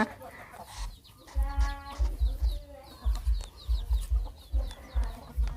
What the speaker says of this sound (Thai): เป็ดไก่กวนแน่